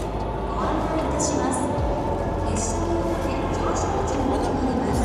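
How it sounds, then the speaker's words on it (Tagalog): A Shinkansen bullet train pulls into a station on a Sapporo to Takayama trip, a steady low rumble and hiss filling the platform while people talk in the background. "Ayan na yung train namin."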